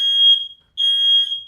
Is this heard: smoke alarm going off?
yes